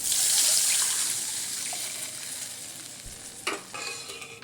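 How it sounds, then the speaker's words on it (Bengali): Tamarind water poured into spiced tomato masala in a hot pan, a loud hissing sizzle right at the start that gradually softens, with stirring scrapes and a bubbling clatter near the end. "এবার আমি এর মধ্যে দিয়ে দেব তেঁতুল গলা জল।"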